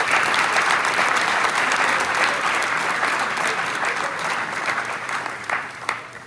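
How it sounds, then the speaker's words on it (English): Steady applause from a crowd at a high school football awards ceremony honoring coaches, a dense continuous clapping wash that holds loud, then thins slightly near the end, with faint voices mixed in. "A round of applause for all the coaches in attendance."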